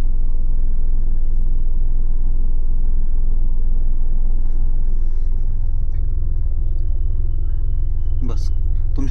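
A car idles with a loud, steady, low engine rumble while it reverses to park between two other vehicles. The engine is heard close up and stays even throughout, with a few faint sharp knocks near the end.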